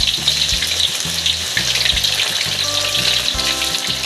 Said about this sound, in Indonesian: Setelah minyaknya panas, kita goreng aja langsung singkongnya.